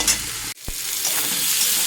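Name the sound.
potatoes sautéing in spice paste in a pan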